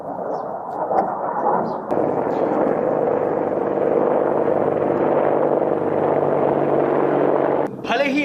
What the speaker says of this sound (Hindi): भले ही आप रात के अंधेरे में इस हेलीकॉप्टर को पहचान नहीं पा रहे हो, लेकिन आपको यह बता दें कि ये अपाचे अटैक हेलीकॉप्टर है।